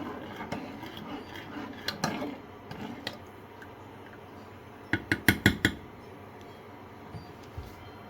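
A utensil clinks and scrapes against a saucepan while sugar is stirred to melt, with scattered light taps and a quick run of four or five sharp knocks near the end, close and fairly quiet with no voices.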